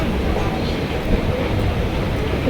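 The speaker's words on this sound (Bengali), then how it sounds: "চলো ট্রেনটা ছাড়ুক তারপর কথা হবে" A passenger train pulls slowly out of a station near Hooghly, giving a dense, steady low rumble and rolling noise that fills the whole stretch, heard from on board or close by.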